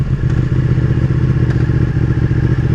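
A Ducati Panigale 899 motorcycle engine runs at a steady idle, a loud, close, throbbing low-pitched rumble with a slight mechanical clatter.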